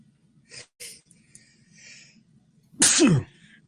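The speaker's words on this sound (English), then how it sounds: "Try to turn my mic off so I don't sneeze in the microphone" A single loud sneeze bursts out near the microphone after a few quieter breaths and rustles.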